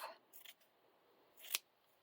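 Scissors trim the ends of a fabric piece for a pumpkin textile craft, giving two quiet snipping bursts early on and a sharper, louder snip about midway, with near silence between.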